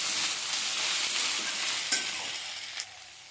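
Small shrimp fry with chopped tomato, green chilies and ginger in a pan, giving a steady hissing sizzle broken by a couple of spoon scrapes and taps.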